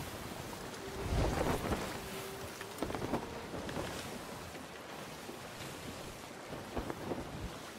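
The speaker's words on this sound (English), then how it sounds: "Oh, we have wind as well." Gusting wind and sea wash around a sailing ship in the game Sea of Thieves, with a louder swell of wind and creaking near the start, then steady rushing breeze and water for the rest, no talking.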